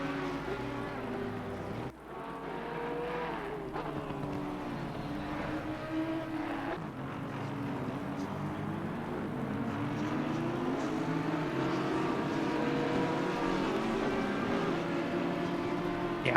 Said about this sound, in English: Yeah, more cars coming in the pits now.